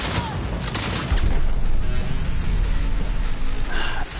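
Gunfire from a first-person shooter, Cyberpunk 2077, with a loud broadband blast and dense crackling impacts filling the whole stretch, a sustained roar of game combat effects with no clear separate shots.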